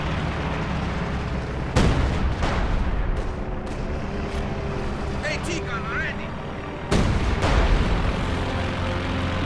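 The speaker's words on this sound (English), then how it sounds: "Counter firing again. Minor armor engagements here. Mortar firing in support." Heavy artillery and mortar fire in Company of Heroes 2 battle, booming blasts landing in bursts with two big impacts standing out, under steady rumbling combat noise and someone talking over it throughout.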